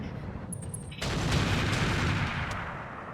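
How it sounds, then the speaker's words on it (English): Heavy artillery fire in the mech combat game Roguetech: a sharp blast followed by a broad, rumbling roar that swells and slowly fades, loud and with no talk over it. "Was that artillery?"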